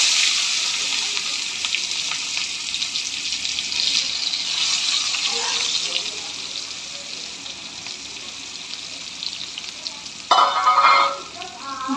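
Chopped onions frying in hot oil with cumin in a pan, a steady bright sizzle running throughout, with a brief clatter of stirring near the end.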